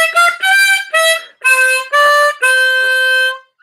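A tremolo harmonica plays a short practice phrase of sustained, wavering reedy notes in separate breaths, close and loud, with brief gaps between notes and no voice.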